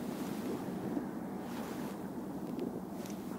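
Steady wind blows from shifting directions over the icy Gulf of Finland, a soft continuous rush with faint surf beneath it, fairly quiet and without any voices.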